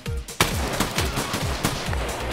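Gunfire in the tactical shooter Escape from Tarkov comes as a sharp opening crack followed by a rapid string of loud, close shots with booming low tails, evenly spaced like bursts from an automatic weapon.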